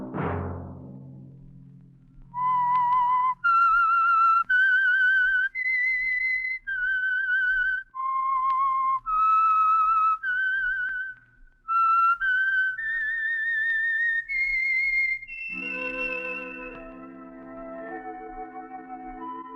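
A lone whistler performs a short melodic theme tune of clear, sustained notes, ending in a lower trailing phrase that fades out.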